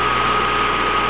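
A Siemens 6.1 HP, 460 V three-phase electric motor runs on 120 volts through a 25 microfarad capacitor at about 3,000 RPM, giving a loud, steady, close-up hum with a constant pitched whine.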